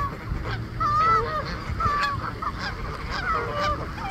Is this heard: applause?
no